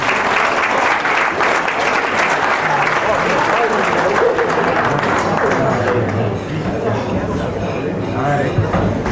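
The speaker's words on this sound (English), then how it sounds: "Big round of applause for Ellie" Dense, steady applause from a crowd at the 2009 Tingha Tigers presentation night, cheering Ellie as she takes her third trophy; the clapping stays loud and continuous throughout, with voices mixed into the din.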